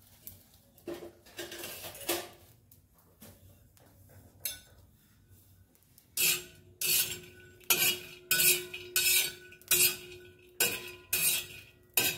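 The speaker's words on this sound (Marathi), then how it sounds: "हा बघा मस्तपैकी कमी गॅसवर भाजून घेणार" Dried Bombay duck (bombil) roasting in an iron pan over low gas, heard as metallic scraping, clinks and stirring knocks. It starts sparse and quiet, then turns into a steady run of louder, rhythmic strokes against the pan.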